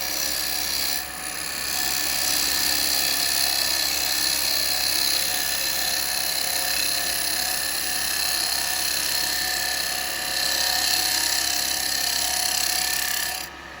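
A bowl gouge riding its bevel cuts wood on a spinning lathe, producing a steady, continuous whirring scrape that holds nearly unbroken throughout, with no talking.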